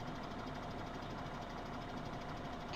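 Valtra T-Series tractor engine idling in Farming Simulator 2017, a faint, even, continuous mid-pitched rumble with no change in speed.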